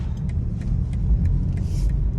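A car drives through a residential neighborhood past an elementary school, going the wrong direction. A steady, close low engine and road rumble runs throughout with no talking.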